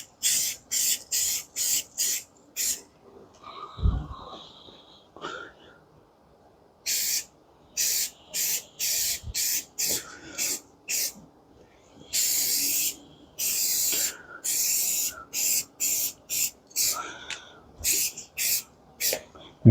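Short hissing bursts of an aerosol spray can apply a first coat of black paint to a Gator utility vehicle, about twenty quick sprays in rhythmic runs with brief pauses and a few soft handling knocks between them.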